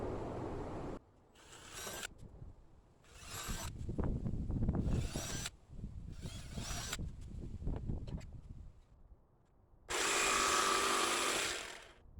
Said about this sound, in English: So I'll go ahead and drill the hole in the corner of each of these.